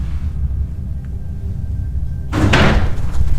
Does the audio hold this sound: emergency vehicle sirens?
no